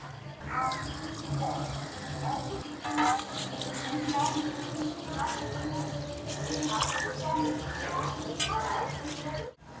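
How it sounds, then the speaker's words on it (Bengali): Biryani rice being washed by hand in a bowl under running water, with steady pouring and swishing splashes at close range; a voice speaks briefly over it. "চালটা আমি পরিষ্কার করে ধুয়ে আধা ঘন্টার মতন ভিজিয়ে রেখে দেবো।"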